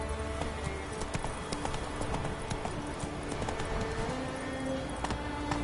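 Roach, a horse in the video game The Witcher 3, gallops with a steady, loud clip-clop of hooves throughout, backed by dense ambient game noise and faint bird calls.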